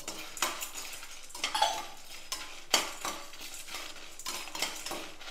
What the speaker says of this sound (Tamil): லேசாக வறுத்துட்டு இதில் மிளகாய் போட்டுறேன்